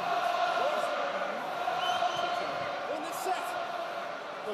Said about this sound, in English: Well, the crowd now in fine voice.